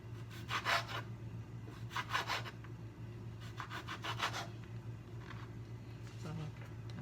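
Knife slicing orange peel into strips for candy, heard as several short, soft scraping cuts in clusters over a steady low hum, quiet and close.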